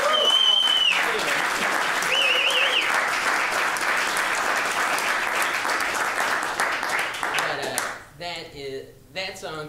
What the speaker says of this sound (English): how about another nice round of applause for Phil?